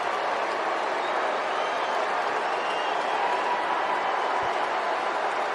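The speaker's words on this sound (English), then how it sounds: "A mix of cheers and boos." Baseball stadium crowd reacting to a home run by Cody Bellinger, a dense, steady wash of cheers mixed with boos, distant and sustained throughout with no single standout voice.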